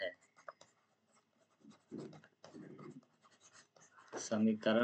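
Hand-writing of a simple linear equation in a maths lesson, pen or chalk strokes scratching in short bursts and longer stretches, fairly close and moderate, with a teacher's voice talking over parts of it.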